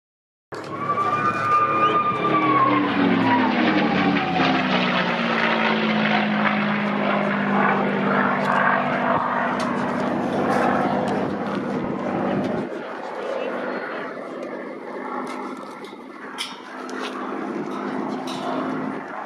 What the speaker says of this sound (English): the noise of the 4 Merlins on Lancaster NX611.